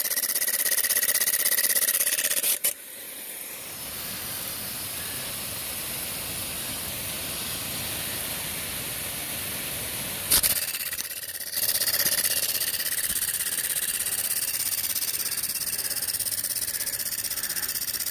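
A Buckner 10601 golf sprinkler rotor runs with its range nozzle plugged, giving off a steady, loud hissing spray that carries on throughout, broken by two brief dropouts.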